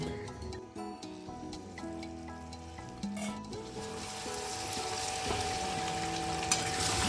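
Chicken sizzling in a pan with a splash of water for chicken kosha, with a steady crackling hiss that swells and brightens toward the end, plus occasional stirring scrapes.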